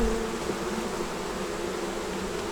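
Honeybees buzz around a hive in a dense, steady drone that stays close and fairly loud throughout.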